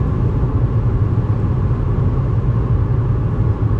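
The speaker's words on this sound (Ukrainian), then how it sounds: "Чути вітер, двигуна не чути" A steady, dense rush of wind and low rumble inside a moving Toyota Camry, constant and fairly loud, with no engine noise audible and no voices.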